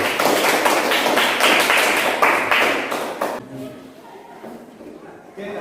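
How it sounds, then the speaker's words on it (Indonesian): A school class claps for a student named Villa during a chemistry lesson: loud, dense, fast clapping from many hands that stops abruptly after about three seconds, leaving a quiet room with faint movement and voices. "Oke, tepuk tangan dulu dong buat Villa."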